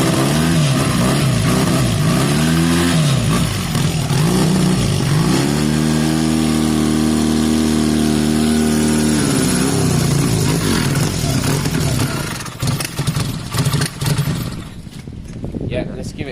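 A Honda CB250 Nighthawk bobber motorcycle engine warming up after a carb swap, a loud steady idle close by that rises and falls in pitch with a few throttle changes before fading near the end.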